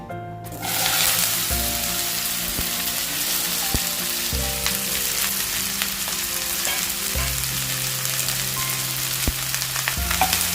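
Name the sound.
okra frying in hot oil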